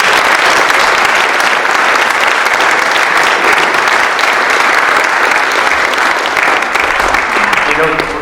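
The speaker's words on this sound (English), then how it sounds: "So join me in a round of applause for our panel." Audience applause at a community forum on opioids and heroin, thanking a panel; loud, dense clapping from a roomful of people continues steadily throughout.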